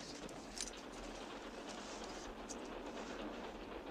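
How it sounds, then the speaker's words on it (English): A steady rumbling roar of a train rolling on rails, faint and continuous, with a few soft clicks along the way. "So the train will be pulling into Philadelphia soon"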